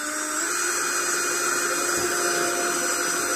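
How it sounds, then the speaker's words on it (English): A power drill pre-drills a hole into a wooden shelf for an old store, giving one loud, steady, close whine that runs the whole time with no talking. "drill our hole so we don't get splits."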